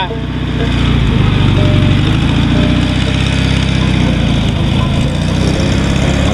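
A 1967 VW car engine putters loud and close with a steady low rumble as the car pulls away, with voices talking over it.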